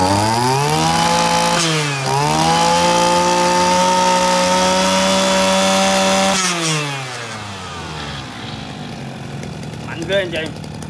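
A gasoline brush cutter engine runs loud and close, revving up and down with sweeping pitch before settling back toward a lower, rougher idle.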